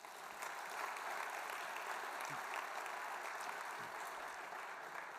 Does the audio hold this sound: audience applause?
yes